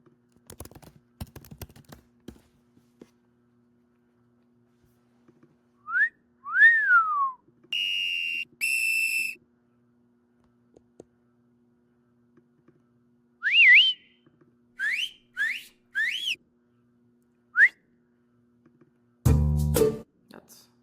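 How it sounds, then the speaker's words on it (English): A run of short, sliding whistle tones, chirping up and down in quick bursts with pauses between, followed by a dull thump at the end. "Let's do a whistle here."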